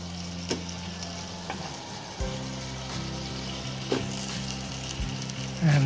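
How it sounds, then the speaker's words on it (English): Garlic and onions sizzle in melted butter in a pan for mac and cheese. A steady close frying hiss runs throughout, with occasional louder pops and stirring scrapes. "once the butter is melted, let's add in the garlic"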